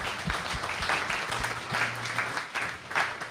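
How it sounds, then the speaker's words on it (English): Applause for a panel at the close of a multi-agent systems summit session, a steady wash of audience clapping with a few louder bursts, filling the whole stretch at moderate level. "join you all in giving this panel a big round of applause"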